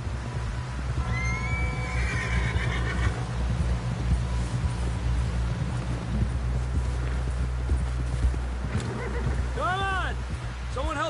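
A horse in Red Dead Redemption 2 lets out a clear whinny near the end, with hoofbeats and game voices talking beneath a steady low hum.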